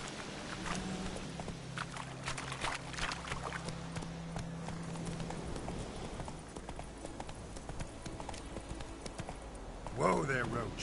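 Hooves of Roach, the horse in Witcher 3, clopping steadily across ground beneath in-game music, with a voice speaking over it.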